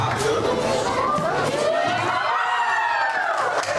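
Spectators shouting and cheering at children's khuresh wrestling bouts in Tuva, where excited parents yell and children call out in a dense, close crowd din with rising voices.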